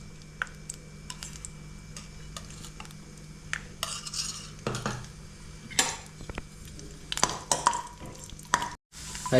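Raisins and cashews are stirred in ghee in a pan, a spoon scraping and clinking against the metal in irregular strokes over a faint sizzle, close by and with no talking.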